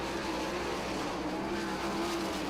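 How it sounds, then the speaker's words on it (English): 410 sprint cars race at Lincoln Speedway during a heat race, a steady, continuous roar of engines with no clear gaps, the pack running close together throughout. "Got a race for 5th right now between Madsen and Macri"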